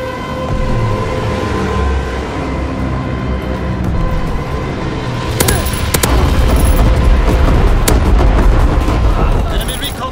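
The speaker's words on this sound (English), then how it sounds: "Carpet bombing run inbound." Carpet bombing run explosions in a video game battle on the docks: a continuous heavy rumble of blasts with sharp cracking hits around the middle, steady and loud throughout.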